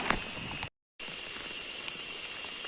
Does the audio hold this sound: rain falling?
yes